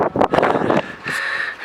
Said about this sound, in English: It's very windy, it's so difficult to walk.